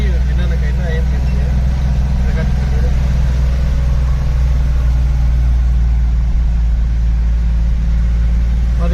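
A vehicle engine runs with a steady, loud low rumble while the driver works a tight gear lever with stiff select and shift cables, the drone continuous throughout.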